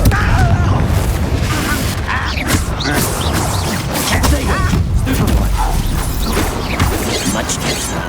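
A Confringo fire blast cast during a fight in Hogwarts Legacy, heard as booming impacts and creaking, clattering crashes inside a dense, continuous wash of loud combat noise.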